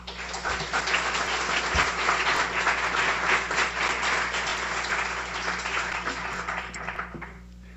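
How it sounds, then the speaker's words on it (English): Applause for a class supervisor at a guide dog school graduation ceremony fills the room, a steady wash of many hands clapping that holds for several seconds before thinning out at the end. "A round of applause for Del."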